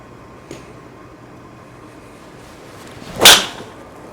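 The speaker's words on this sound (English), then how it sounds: "It'll wait till you hear the sound of this driver." A golf driver strikes a ball on a night driving range: one sharp, loud crack cutting through steady background hiss, preceded by a faint tick and fading quickly after impact.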